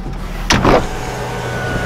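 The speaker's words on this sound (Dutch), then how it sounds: "En we zetten even het dakje open." A car's sunroof slides open automatically with a brief whirring motor sound and a soft mechanical clunk, close by inside the cabin, over a steady idle hum.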